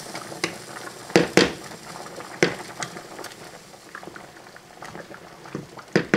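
A pot of pasta water at a rolling boil bubbles and pops steadily nearby, with occasional louder bursts and clinks over the continuous churning and no voices.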